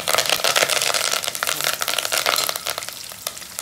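Curry leaves crackle and sizzle in hot oil for a tomato dal tempering, a dense, busy spatter of pops that continues throughout without talk.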